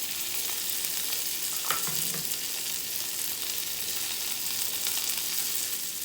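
Chicken frying with garlic, parsley and green onions in a pan sizzles loudly and steadily, with a couple of scraping stirs partway through.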